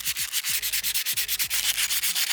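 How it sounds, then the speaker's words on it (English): Rapid, steady back-and-forth rasping of sandpaper on a small metal drawer pull, close and continuous with a regular scrubbing rhythm. "I think I can use sandpaper"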